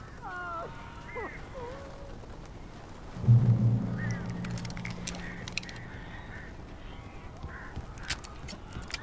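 Birds cawing in the video game Alan Wake Remastered, harsh crow-like calls scattered over a noisy game soundscape, with a louder flurry midway and voices talking throughout.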